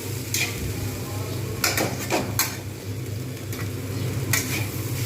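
Vegetables stir-fried for restaurant-style mixed fried rice sizzle steadily in a pan, broken by several sharp scrapes and clinks of a spatula against the metal, close and continuous.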